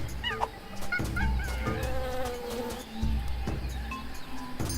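Jungle ambience from the video game Tales of Monkey Island: buzzing insects hum continuously while bird calls and chirps chime in at intervals, a dense steady backdrop with no speech.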